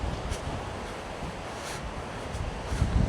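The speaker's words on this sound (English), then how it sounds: "Hopefully you can hear me, it's a bit windy now." Wind gusts buffet the microphone on a clifftop path down to Caerhays Beach in Cornwall, a broad steady rush with soft surges and a louder gust at the end, heard alone without talk.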